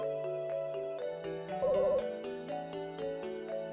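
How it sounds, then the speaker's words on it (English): An electronic phone ringtone from the RPG Maker 1 video game chimes in repeated short, bright beeps over a looping synth melody, with a warbling tone briefly rising in the middle. "RPG Maker 1 has a phone and includes a phone sound effect"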